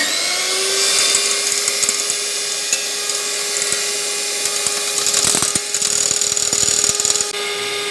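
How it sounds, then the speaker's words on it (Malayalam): An electric hand mixer beating egg whites with sugar for fluffy pancakes, a steady close whine that runs the whole time, with rattling and scraping against the bowl. "എഗ് വൈറ്റ് എടുത്ത് നന്നായിട്ട് ബീറ്റ് ചെയ്യുക."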